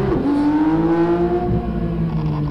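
A Porsche 992 GT3 rally car accelerates hard on a bumpy rally road, its engine note climbing loudly and close with a strong rising whine, no voices over it.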